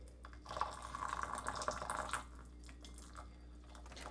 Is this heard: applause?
no